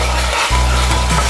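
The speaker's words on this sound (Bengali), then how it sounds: "ভালো করে মিশিয়ে নিতে হবে।" Powdered spices, including red chilli, black pepper, coriander and cumin, stirred into hot oil in a pan for a mutton curry, giving a loud, continuous sizzle with scraping stir strokes.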